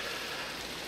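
Steady rain falls in modded Minecraft, a dense even hiss of drops running throughout at moderate level, with no voices.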